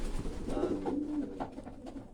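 A large homing pigeon coos close by, a soft low throaty call rising and trailing off near the middle, over a faint room background with no speech.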